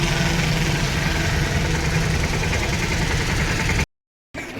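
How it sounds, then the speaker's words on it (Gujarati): A tractor engine idles with a steady low chugging hum that cuts out briefly near the end and then resumes. "ટ્રેક્ટર પણ સરખું વ્યવસ્થિત રાખે છે"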